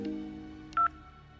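A telephone gives one short, clean electronic dial tone beep, held briefly over a low steady hum, in the sound effect of a call being picked up.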